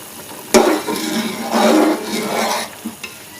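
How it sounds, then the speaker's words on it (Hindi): Water comes to a boil in a pot on a high flame for vegetable pulao, the covered pot having sat for five minutes. Bubbling swells in two or three surges, broken by a sharp clatter of pot or lid. "देखें पानी अच्छा सा बॉयल हो गया।"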